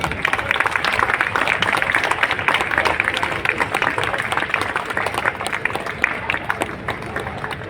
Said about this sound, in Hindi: एक जोरदार ताली के साथ